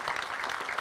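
Graduation ceremony audience applauding the families and loved ones, a dense, steady wash of many hands clapping at once, filling the whole short moment.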